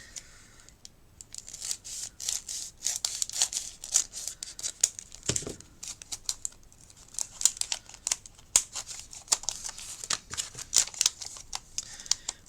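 Paper being cut down the side for a storage box craft project: a rapid series of crisp snips and crinkly slicing strokes, close and fairly loud, with a brief low thump near the middle and no talk.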